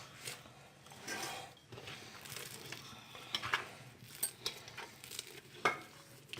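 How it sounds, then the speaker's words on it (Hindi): Ingredients for halwa puri roast in a pan, making a quiet sizzle with soft scraping and clinking of the stirring utensil against the metal. "अभी 3-4 मिनट तक भूनेंगे इसको"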